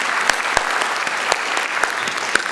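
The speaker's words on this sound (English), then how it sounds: "Give him another big round of applause." At an Arangetram dance recital, the audience applauds an orchestra member with a loud, continuous burst of clapping, a few close, sharp claps standing out rhythmically above the crowd.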